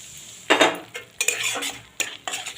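A spoon stirs and scrapes tomato ginger masala with ground coriander, cumin and Kashmiri chilli in a pan, giving a few loud, separate scraping strokes with a faint sizzle between them and no talk.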